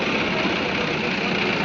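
Tractors gathered at an agricultural equipment inspection camp in Ranpur taluka idle in a steady, close, unbroken engine drone.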